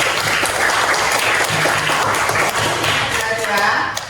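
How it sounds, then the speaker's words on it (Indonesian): Applause from a school class, a steady wash of clapping hands lasting several seconds with some voices mixed in. "beri tepuk tangan untuk Zahra"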